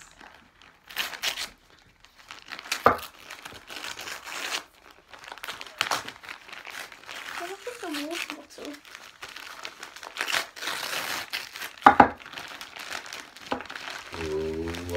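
Paper wrapping being torn and crumpled off a Christmas gift box, with repeated crinkling and rustling bursts in uneven handfuls while family members talk over it.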